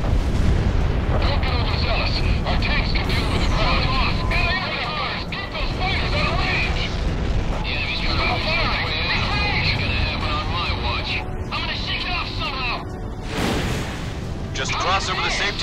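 Weapon impact explosions rumble without pause from Ace Combat 6 while flying the A-10, producing a loud, dense, continuous roar with bursts layered over it as radio-style voices talk throughout.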